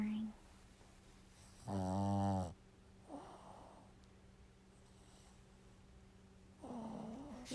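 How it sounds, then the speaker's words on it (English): An animal snores softly and close by in a few rough, rhythmic bursts, one loud and buzzy, others fainter, against a quiet room. "I don't know if y'all can hear this, but Millie is snoring"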